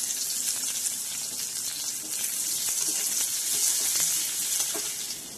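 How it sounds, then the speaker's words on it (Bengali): Chopped onion hits hot oil tempered with five-spice and green chilli, a loud, steady, close sizzle with faint stirring scrapes and no speech. "এতে দিয়ে দেবো কুচনো পেঁয়াজ।"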